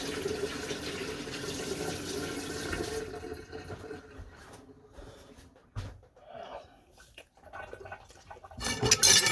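Water running steadily from a kitchen tap while mushrooms are washed, a continuous splashing rush that cuts off partway and returns in short spurts near the end.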